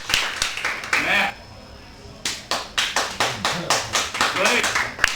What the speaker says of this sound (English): Clap as loud as you can